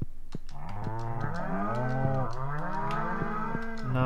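Cows in the farming game Stardew Valley moo repeatedly in long, overlapping, drawn-out calls, loud and close, with a few faint clicks between them and no talking.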